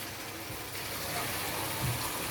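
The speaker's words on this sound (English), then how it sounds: "fill up your can with water." Tap water gushes steadily into an empty tomato can while cooking spaghetti bolognese, a continuous hissing pour heard alone at moderate loudness.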